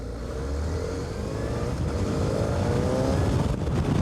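A superbike engine roars steadily and builds in pitch as the motorcycle accelerates away, loud and close, with no talking.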